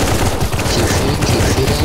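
Dense, continuous gunfire at zombies in Counter-Strike: Global Offensive zombie escape mode, many rapid overlapping shots from several weapons, loud and near.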